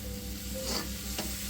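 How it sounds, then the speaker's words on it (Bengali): Pasta is stirred in a frying pan with the spice mix from its packet, giving a soft continuous sizzle with a few faint scraping strokes of the spoon, close and quiet, no voices. "খুব সুন্দর করে নেড়ে চেড়ে দিলাম।"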